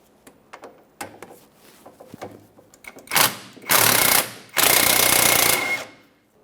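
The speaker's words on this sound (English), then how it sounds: "we can break free our 17mm center through bolt" A 17mm socket on an extension works through the driver's side wheel well to break free the center through bolt of a rear engine mount on a 2014-2019 Toyota Corolla: faint clicks and taps, then three loud, sustained bursts of grinding, rattling power-tool noise.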